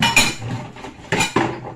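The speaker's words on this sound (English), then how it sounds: "to wash the pots" Pots and pans from cooking a vegetable curry being washed, with a few sharp metallic clinks and clatters standing out against a steady wet scrubbing background, close and fairly loud.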